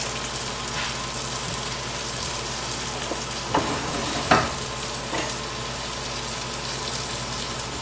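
Brandy and heavy cream sauce simmering and reducing in a pan, a steady close sizzle and bubbling crackle with a few brief louder pops or stirs, no talk.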